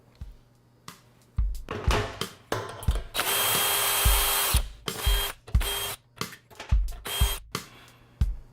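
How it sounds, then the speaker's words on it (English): A power drill whirs in repeated short bursts, with one longer sustained run in the middle, punctuated by clicks and clanks of metal, as it removes bonnet bolts. "I like to use a power drill, but you can use a socket wrench"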